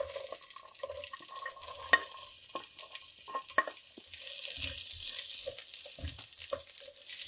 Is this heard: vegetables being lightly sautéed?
yes